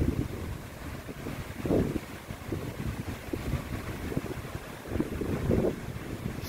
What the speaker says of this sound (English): And here's your crashing waves.